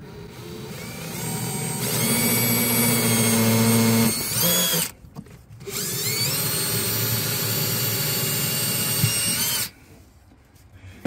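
A power drill bores into metal in two long whining runs separated by a short pause, loud and close, with a brief quieter stretch at the end.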